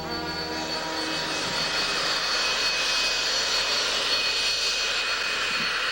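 Steady, loud drone of an airplane engine in flight along the British Columbia coast between Vancouver and Port Hardy, broadband roar with a faint high whine, continuous and unbroken with no voices.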